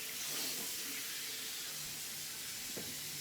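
Tap water runs steadily into a sink while hands are rinsed, a continuous hissing wash with no pauses, fairly close and heard alone.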